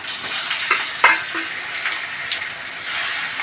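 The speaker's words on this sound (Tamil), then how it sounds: "அடுத்தது இதில் இஞ்சி பூண்டு போட்டு நல்லா வதக்கணும்." Ginger garlic paste fries in a pan for a mutton intestine curry, a soft steady sizzle with occasional stirring scrapes and clinks close by, with no talking.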